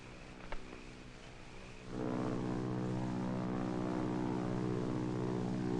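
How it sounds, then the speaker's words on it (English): A propeller airplane flying overhead, as heard in the 1947 adventure film Blonde Savage, fades in after a quiet start and then holds a steady, droning engine hum with a buzzing edge at moderate distance. "Do you hear a plane?"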